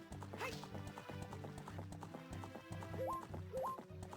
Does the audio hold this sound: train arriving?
no